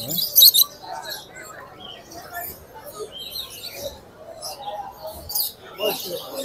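Cockatiels chirp and tweet in short, high bursts at a bird market, scattered across the clip with a few soft voices in the background.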